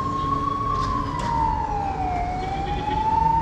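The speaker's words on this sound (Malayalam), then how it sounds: "എന്തോ എമർജൻസി ഒരു ഫയർ എഞ്ചിൻ പോകുന്നുണ്ടോ അവിടെ" Fire engine siren passing by, heard from near the water at Kandassankadavu, Thrissur: a loud, continuous wailing tone that slowly falls and rises again, over a steady background rumble of traffic.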